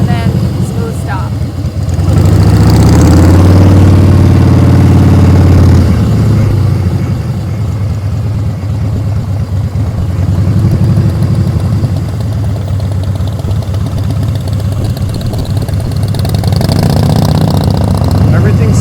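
A motorcycle engine holds a steady, even low-throttle rumble during slow riding practice drills, close and continuous for the whole stretch, with someone talking over it.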